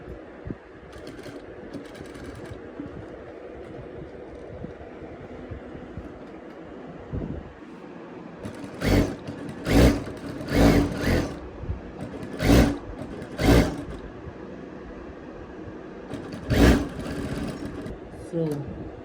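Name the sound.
sewing machine sewing a top stitch on a shirt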